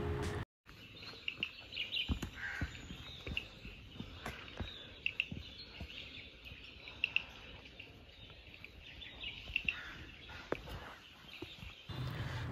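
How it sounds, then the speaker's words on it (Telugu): Faint forest ambience on a Kodaikanal trek, with scattered distant bird calls and chirps and insects calling softly over a quiet background. "Noises from the forest are so good, చాలా ప్లెజెంట్గా ఉన్నాయి. ఆ బర్డ్స్, ఆ పురుగులు ఏవేవో సౌండ్ చేస్తున్నాయి అనమాట"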